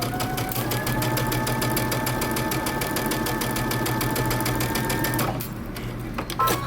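A sewing machine back stitching the start of a seam on a shirt dress, running steadily at a fast even rhythm for about five seconds, then stopping abruptly, leaving a quieter hum with a brief mechanical clatter near the end.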